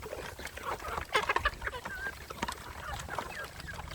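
Native hens and roosters from a flock of 200-300 cluck and squawk in scattered bursts nearby, several birds overlapping in a busy farmyard chatter.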